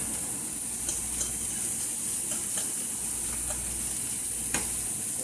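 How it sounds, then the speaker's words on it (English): Sausage browning in a pan gives a steady close sizzle and hiss throughout, with a few faint scrapes and clicks of stirring over the top and no talking. "once we get this cooked down really good, we want the sausage to brown"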